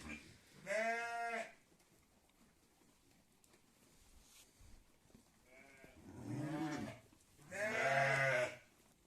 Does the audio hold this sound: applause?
no